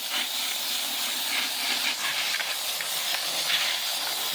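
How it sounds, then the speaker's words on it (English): A garden hose sprays water over obsidian pieces to rinse them, giving a steady close hiss of spray that runs on without break and carries no speech. "Let me get these things cleaned off with just the old trusty hose here"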